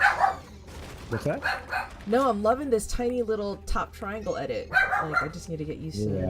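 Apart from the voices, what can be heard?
dog barking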